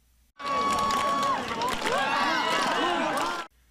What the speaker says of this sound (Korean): 직접 높이뛰기 시범을 선보이자 학생들의 환호가 터져나옵니다